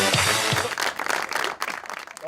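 Studio audience applause on a Pakistani talk show, a dense wash of many hands clapping at once, steady and fairly loud throughout with slight swells.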